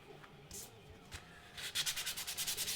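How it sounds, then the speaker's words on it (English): Rapid rhythmic scraping of sandpaper on a surface, a quick series of strokes after a few scattered rubs, nearby and fairly loud. "a little more sanding"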